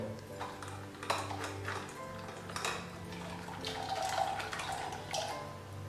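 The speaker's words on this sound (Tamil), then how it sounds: "கொஞ்சம் தண்ணி ஊற்றி கலக்க போகிறேன்" Water poured into grated coconut and stirred in a bowl, with close splashing, sloshing and light clinks of a utensil against the bowl in a quiet kitchen.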